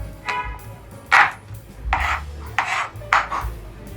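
Onions being cut into quarters on a board: five distinct knife strokes at uneven intervals, each a crisp, close crunching slice, against a quiet kitchen background.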